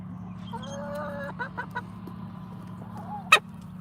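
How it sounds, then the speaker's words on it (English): Chicken giving short hiccup-like clucks in a few quick bursts, fairly close, with one sharper squawk near the end over a low steady hum. "Chicken hiccups."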